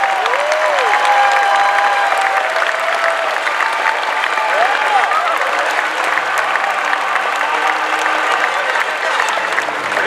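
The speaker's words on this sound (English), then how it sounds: "give a round of applause to Walt Disney Imagineering and to Lucasfilm members" Sustained applause from a large audience at a Star Wars Celebration 2017 panel, loud and steady throughout, with a few voices and whoops rising over the clapping.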